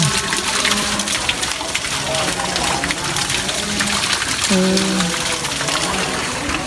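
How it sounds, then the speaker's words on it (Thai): Waterfall at a Thai temple site, a steady broad rush of falling water filling the scene, with faint tonal sounds drifting over it. "น้ำตกอีกแล้ว"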